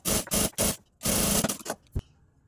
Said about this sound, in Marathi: हे ब्लाऊज पीसचं असं एक साईडला करून इथे मधोमध आपल्याला शिलाई द्यायची आहे